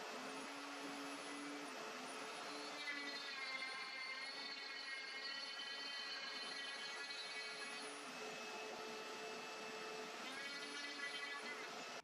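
Parkside POF 1200 D3 router cutting with a vacuum hose attached, a loud steady whine and roar throughout with shifting high tones as it moves along the workpiece.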